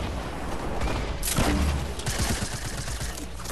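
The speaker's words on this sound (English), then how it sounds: "There's fireworks everywhere." Fireworks burst during the Fortnite Marshmello in-game event as a dense, continuous barrage of crackling pops and booms under a thick wash of game sound.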